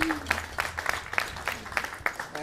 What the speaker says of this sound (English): I guess I'm clapping for you alone